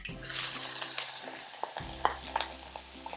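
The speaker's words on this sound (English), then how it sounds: "we're just going to brown these onions down until they're nice and golden" Sliced onions frying in hot oil with spices and curry leaves for a chicken kofta curry, a steady close sizzle with scraping stirs and small pops, no talk.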